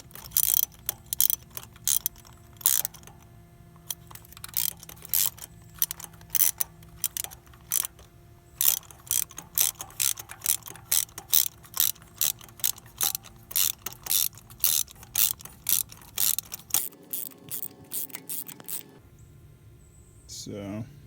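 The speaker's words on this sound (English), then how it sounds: "So I'm going to go ahead and pull this spark plug out and replace it" A ratchet on an extension works a deep-set spark plug loose in a Toyota Sienna engine, giving long runs of rapid, close, sharp clicking bursts with short pauses between strokes.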